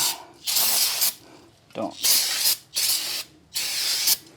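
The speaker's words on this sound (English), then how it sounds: "Let's spray it and run it." An aerosol can sprays onto the engine of a 1962 Corvette in several close hissing bursts of about half a second each, separated by short pauses, with a brief voice sound between them.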